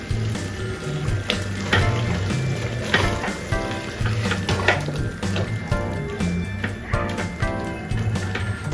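Ground spice masala with turmeric, garam masala and cumin powder sizzles steadily in a little oil for avarekalu pulav, a close, continuous crackling fry with occasional stirring scrapes.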